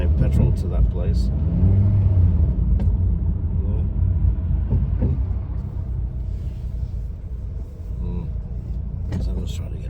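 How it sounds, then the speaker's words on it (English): Congested road traffic on the East Lancs road through Astley: a steady low rumble of idling and creeping cars close by, with engine drone dominating and people talking over it. "the traffic really is clogged up here"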